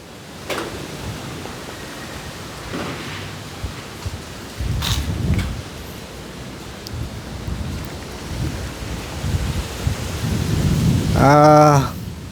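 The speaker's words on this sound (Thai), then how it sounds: "มีมีฟ้าร้องด้วยนะครับ" A thunderstorm lashes Sanam Chai Khet in Thailand: steady heavy rain hisses throughout while deep rumbles and cracks of thunder roll in, some near and loud.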